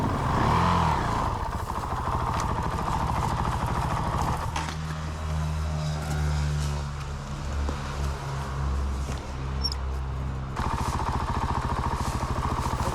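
An enduro motorcycle ridden along a trail at the Teteriv Enduro Trophy 2022 competition, its engine droning loudly and continuously up close, the note rising and falling through the ride with no talk.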